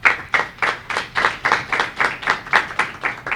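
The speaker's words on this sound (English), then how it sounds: "a round of applause to our panelists" A conference audience claps for panelists at a 2019 anti-corruption event, with rhythmic, evenly spaced claps of about three per second, loud and close, with no talk over them.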